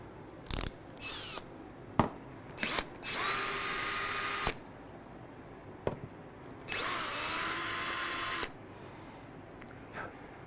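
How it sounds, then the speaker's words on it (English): A power drill bores into a boat deck in two sustained high-pitched whining bursts, separated by short clicks and bumps of handling, close and fairly loud with no talk. "So now we're going to go ahead and drill into this deck."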